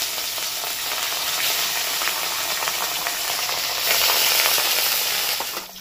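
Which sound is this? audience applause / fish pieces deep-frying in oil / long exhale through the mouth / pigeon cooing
fish pieces deep-frying in oil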